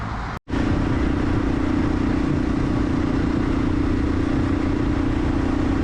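A motorcycle cruises along a big open highway, the engine's steady drone and wind roar loud and continuous after a brief dropout at the start.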